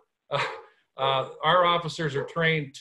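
A pet dog barks in the background during a board of trustees meeting, several loud, close barks mixed with someone speaking, the barking partly masked by his voice.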